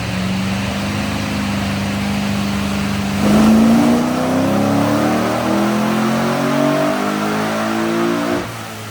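A naturally aspirated LS3 V8 engine in a 1967 Corvette on a dyno idles steadily, then revs up sharply and holds a rising, loud drone under load for several seconds before dropping off.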